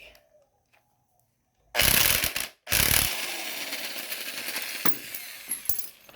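A ratchet and socket work on bolts of an LS MT125 tractor with transmission problems: after near silence, bursts of rapid ratcheting clicks sound up close, broken by a short pause, then continued clicking and tool rattle.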